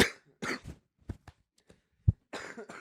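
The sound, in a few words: cough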